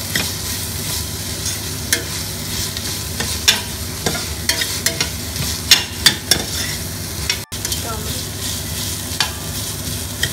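Ginger garlic paste fries in a pan with a steady, close sizzle, punctuated by light scraping taps of a spoon stirring it, with no voices.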